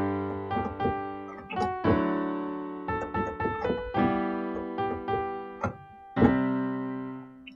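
Block chords of a song's chorus played on piano, struck in a steady series of sustained, ringing chords alone with no voice.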